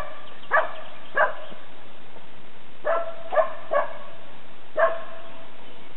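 A dog barks in short sharp yelps, about six spaced over several seconds, fairly close and loud against a quiet outdoor background during a dog hunting trial, no voices heard.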